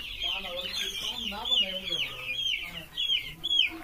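Many local chickens and chicks cluck and chirp busily together on a poultry farm, a dense close chatter of fowl with a faint voice underneath.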